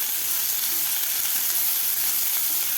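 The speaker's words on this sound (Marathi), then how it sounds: "कांदा आपल्याला एक ते दीड मिनिट व्यवस्थित परतून घ्यायचा आहे" Chopped onion sautéing in a pan for sprouted masoor usal, a continuous bright sizzle close up with faint stirring, no talking.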